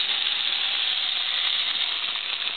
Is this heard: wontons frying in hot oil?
yes